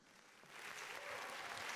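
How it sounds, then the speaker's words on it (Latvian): An audience at an events industry awards ceremony in Latvia breaks into applause, a dense wash of clapping that starts softly and swells louder, heard from a distance with no talk over it. "Aplausi!"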